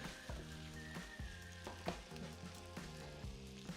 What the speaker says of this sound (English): I will add my zucchinis. They're gonna cook with the onions a little bit.